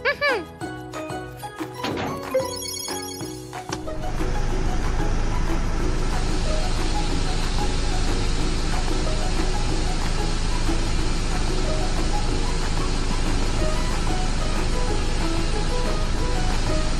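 Blowers start up in a cartoon car wash: clinking and thunking machinery first, then a sudden loud, steady rushing roar of air that continues without a break.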